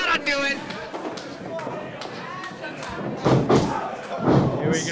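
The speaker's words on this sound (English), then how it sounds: "Super kick." A wrestler's super kick lands in the ring during a full match: several sharp thuds and slams over steady crowd noise, with commentators talking throughout.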